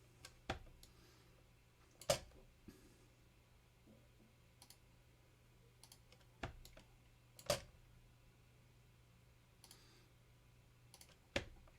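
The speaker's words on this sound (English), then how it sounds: "That's my spacebar key going down and up so that I can move the screen around." Computer keyboard spacebar clicking in a quiet room, single sharp clicks spaced a few seconds apart, some in quick down-and-up pairs, over a faint steady hum.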